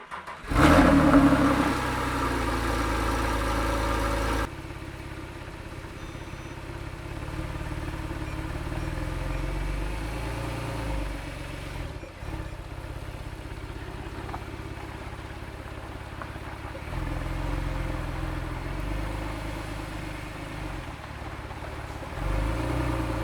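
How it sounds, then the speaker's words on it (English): Porsche 911 997 GTS flat-six cold start: a loud starter catch and rising revving flare in the first few seconds, then dropping to a steady, slightly uneven fast idle that hums on alone with no talk. "starting from the fact we'll just do a cold start"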